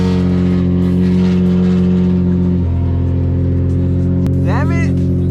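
A Nissan 350Z with a loud exhaust catches after a push start and settles into a steady, droning rumble close by, with a brief higher whine near the end.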